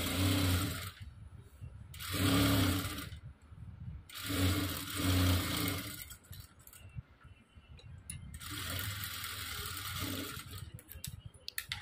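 A sewing machine stitches blouse lining in several bursts of fast mechanical whirring and clicking, pausing briefly between runs, close and fairly quiet.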